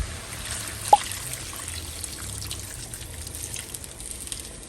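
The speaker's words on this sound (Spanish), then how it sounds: "Aquí le voy a agregar una taza de caldo de pollo o de agua." Chicken broth or water trickles into a cooking pot in a faint, steady pour, with one small splash early on and quiet kitchen background throughout.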